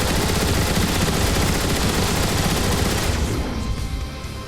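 Decepticon ion displacer turret from Transformers: War for Cybertron firing a loud, continuous rapid burst of energy-weapon gunfire for about three seconds, then tailing off into rumbling echo.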